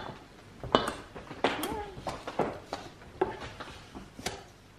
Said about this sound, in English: Do you want to mix all the dry ingredients up with one of the new spatulas?